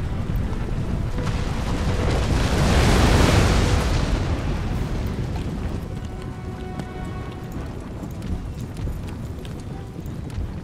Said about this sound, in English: Here come the rockets.